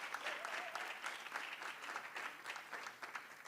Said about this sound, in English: you can give yourself a round of applause for your attendance